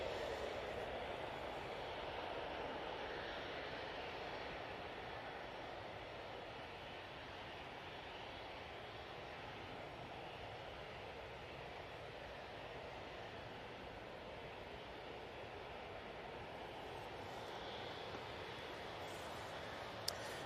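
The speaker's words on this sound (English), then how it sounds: "Next out will be this TUI 737-800." A TUI Boeing 737-800 departing Manchester Airport, a faint distant steady jet rumble and hiss that barely changes throughout, with no voices.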